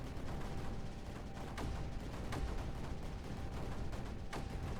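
Cannons in the strategy game Creeper World 4 firing steadily at creeper, a dense low rumble crossed by repeated soft thumping shots, fairly quiet and continuous without speech.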